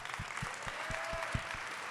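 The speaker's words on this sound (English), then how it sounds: "Round of applause for that." An audience claps in a short burst of applause, dense and steady throughout, with a few sharper claps standing out close by.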